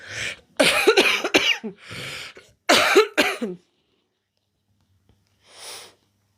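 An alien puppet character coughs and splutters in several sharp, close bursts with breathy gulps between, then falls silent before one faint breathy sound at the end.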